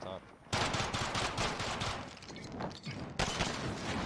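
Dense automatic gunfire from the Call of Duty Warzone video game, rapid loud bursts of shots filling the whole few seconds, with a voice faintly mixed under the shooting.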